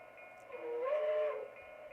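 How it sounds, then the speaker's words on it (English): A locomotive whistle in a train simulator game sounds one faint, steady tone lasting about a second over quiet rumbling, with no bell clearly standing out. "So when it hit the whistle after holding the bell down."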